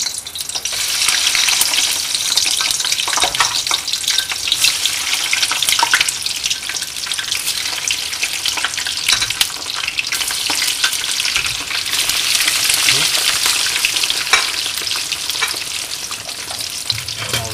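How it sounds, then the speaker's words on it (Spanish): Potatoes fry in smoking-hot sunflower oil with a loud, continuous sizzle and crackle. Occasional stirring clatters sound in the pan throughout, and no one talks. "cuando veamos ya que el aceite de girasol comienza a humear, le echaremos las patatas"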